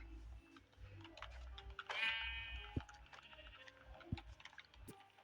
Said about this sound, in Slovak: Sem ty ovca.